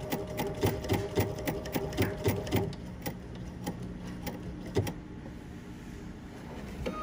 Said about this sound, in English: And that's how you would sew on a crystal.